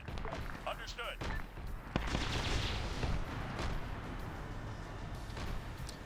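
Tank turret gunfire in a war video game: several heavy, close booming shots, with one sharp blast standing out amid a dense rumbling battle din, while a voice talks over it.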